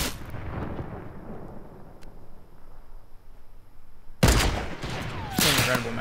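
Heavy sniper rifle shots in the mobile version of Fortnite, two sharp loud blasts near the end following a quieter stretch of game ambience, the second shot ringing with a brief tail.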